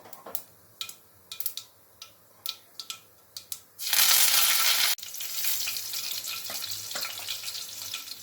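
Chilli, curry leaves and a little ginger are tipped into hot oil already holding cumin for an Indian taro-leaf curry. A few rhythmic ticks come first, then a sudden loud hiss that settles into steady sizzling.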